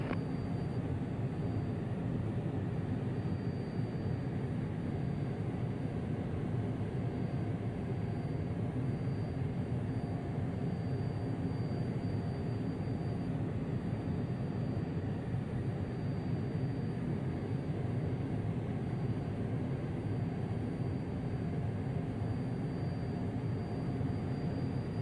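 Steady, continuous drone of a Cessna light aircraft engine idling and rumbling as the plane taxis toward a runway, heard from inside the cabin, loud and unbroken with no talk.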